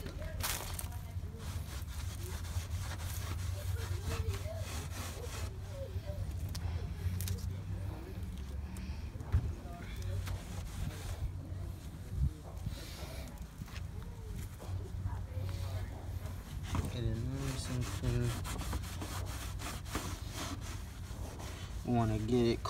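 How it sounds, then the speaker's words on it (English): Alcohol-soaked rag rubbed across the underside of a 2004 Honda Civic bumper, a steady soft scrubbing and rasping that runs throughout, close and continuous, with a voice talking over much of it. "I'm putting the alcohol on the rag, and then we're gonna wipe it across underneath"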